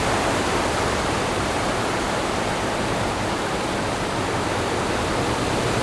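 A waterfall in northern Bali roars in a steady, dense wash of rushing water, loud and unbroken throughout with no voices.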